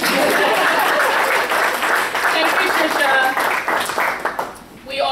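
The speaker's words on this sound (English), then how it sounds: "You can clap." Audience applause at an evening summit, a broad wash of many hands clapping steadily and loudly, thinning out toward the end.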